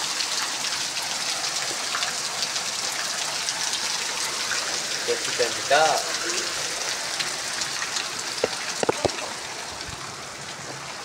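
Steady heavy rain hisses throughout, a dense broadband wash, with a person speaking briefly in the middle and a few sharp knocks near the end.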